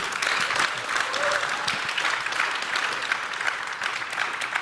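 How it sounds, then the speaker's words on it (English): Audience applause for the panelists at the close of a main-stage discussion at the Impact Festival on social innovation and clean technology, a steady, moderately loud wash of clapping, with a faint voice underneath. "So this is your applause, big applause for all of you."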